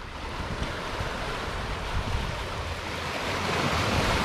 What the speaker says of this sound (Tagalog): Ayan, malakas ang dagat.